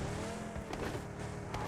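A car driven on the Erangel map in PUBG, its engine a steady close drone with a constant rumbling low end and a couple of brief faint tire noises.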